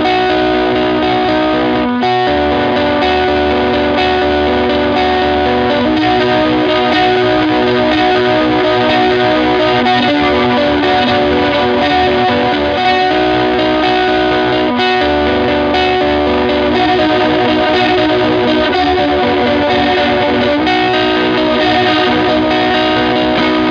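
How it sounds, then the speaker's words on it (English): Electric guitar runs through a Digitech Whammy pedal's detune setting, a loud, dense, continuous shimmering chorus-like tone with distortion, chords sustained throughout with brief breaks. "it achieves its detune sound by, wait for it, detuning your guitar signal"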